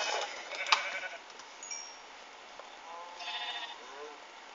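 A Minecraft sheep bleats several times in short, nasal calls with quiet pauses between, thin and somewhat synthetic in tone.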